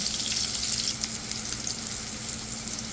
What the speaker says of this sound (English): We're going to allow the sausages to fry until golden brown on both sides